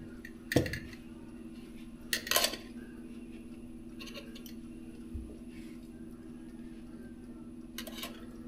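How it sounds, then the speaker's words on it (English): A spoon and dishes clinking in a kitchen while espresso is made, a few sharp metallic taps spaced apart over a steady low hum. "Let's get a clean spoon for a little sugar"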